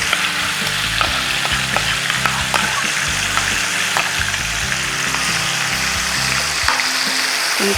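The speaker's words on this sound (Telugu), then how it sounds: "ఇప్పుడు చికెన్ వేద్దామండి" Chicken pieces frying in hot oil in a pan, a steady loud crackling sizzle with occasional sharp pops and scraping stir sounds, with a low background hum and no talk.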